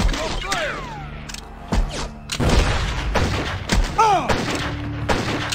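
Video game gunfire and explosions, loud booming shots and thuds mixed with whooshing, descending effects and a steady engine-like drone, with a brief exclamation from a voice.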